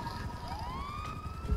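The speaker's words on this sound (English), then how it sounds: "We have a police siren now." Police siren in Grand Theft Auto V Online, a wailing tone sweeping upward and then holding steady, moderately loud and alone, ending with a low thump.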